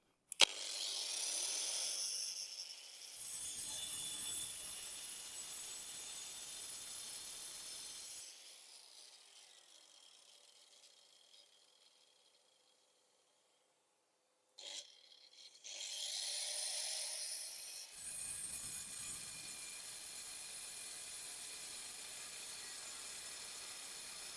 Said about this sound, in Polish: tarczę już mam założoną na szlifierkę, sprawdźmy jak to tnie